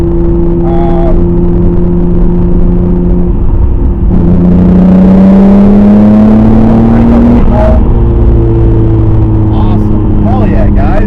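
A Nissan Skyline R32 GTR engine, just repaired after a grounding fault and fitted with an R35 coil pack kit, idles loudly and evenly up close, rising briefly in pitch as it revs, while someone talks over it.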